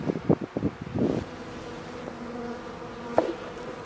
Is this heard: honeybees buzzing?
yes